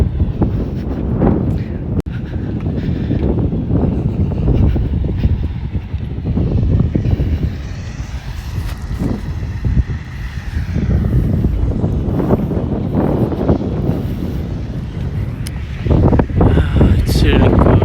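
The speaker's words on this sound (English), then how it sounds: "It's so windy." Strong, cold wind buffets the microphone outdoors at Quidi Vidi, Newfoundland, in loud, rumbling gusts that rise and fall throughout.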